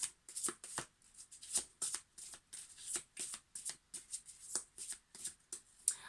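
Sacred Rebels Oracle cards are shuffled by hand close by, a quick run of crisp, papery riffles and slaps repeating in steady bursts with no voices.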